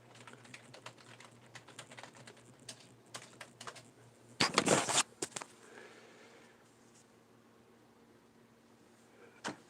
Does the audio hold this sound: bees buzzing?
no